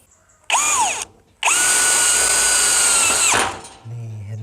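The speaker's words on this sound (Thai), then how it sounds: "ทีนี้ผมจะซ่อมเสริมเข้าไปใหม่นะครับ โดยใช้ตัวสว่านตัว iMac นะ" An IMAX IMCD-20BL brushless cordless drill whines up in a short burst, then runs again longer with a strained high pitch while driving a screw into wood, before stopping, close by.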